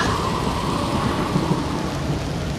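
Steady rain hisses with low rolling thunder in a rainy outdoor scene from the Harry Potter Goblet of Fire video game. The wash of weather noise is continuous, with no voices.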